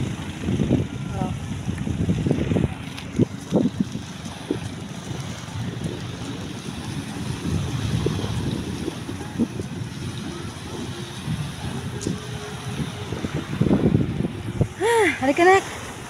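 Strong sea waves surge and wash on a beach at Tanza, Cavite, with gusty wind buffeting the microphone, a continuous rough rumble and hiss, while people talk intermittently nearby.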